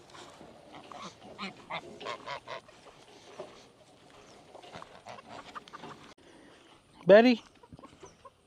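Chickens cluck in a chicken coop with a run of close, repeated clucks and squawks, a sharp loud squawk near the end, and a person speaking briefly among them.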